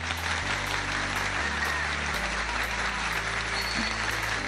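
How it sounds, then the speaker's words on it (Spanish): Applause from a large crowd greets David Ortiz on his first return to the Dominican Republic, a loud continuous wash of clapping that holds steady throughout over a low hum. "Dese un gran aplauso a ustedes"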